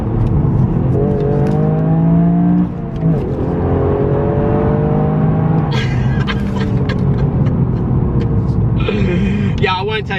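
Toyota GR Yaris engine pulling hard through the gears from inside the cabin, a loud rising drone that drops at each shift and climbs again, with someone talking over it.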